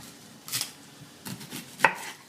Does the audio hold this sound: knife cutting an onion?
yes